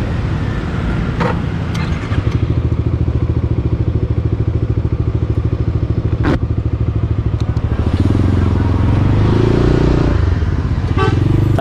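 Motorcycle on a solo touring ride, its engine droning steadily up close throughout, with a few sharp clicks and a brief rise in engine pitch toward the end.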